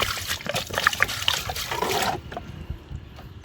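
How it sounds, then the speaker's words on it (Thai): Water pours out of a container into a bucket in an outdoor farm setting, a steady close splashing trickle that fades after about two seconds. "นี่เนาะจะมาเทใส่ถังนี้"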